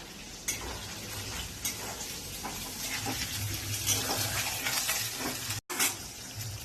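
Steady sizzle of onion frying in a pan after garlic, with occasional scrapes and clinks of stirring, no talking.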